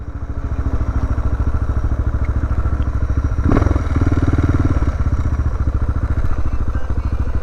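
A Suzuki motorcycle engine runs steadily nearby with a throbbing, pulsing idle and a brief louder thump partway through, at a roadside stop popular with bikers.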